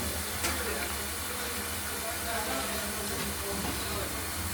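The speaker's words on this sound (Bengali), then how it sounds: "ভাতের জল বসিয়ে রাখা হয়েছে," A pot of water boiling vigorously for rice gives off a continuous dense hiss and bubbling roar, loud and steady throughout, with no clear speech.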